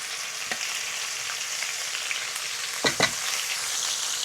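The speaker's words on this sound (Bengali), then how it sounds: "এখন আমি দিয়ে দিব এখানে পেঁয়াজ কুচি" Chopped onion frying in a pan for a spiced fish curry, a steady loud sizzle throughout with a couple of brief stirring scrapes near the end.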